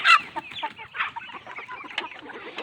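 A busy flock of laying hens, roosters and chicks clucking, a rapid stream of overlapping clucks and short calls, close and moderately loud.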